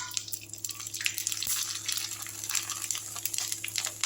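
Vathal, sun-dried crisps made from leftover rice, fry in hot oil with a continuous, bright crackling sizzle, full of dense pops and spits throughout.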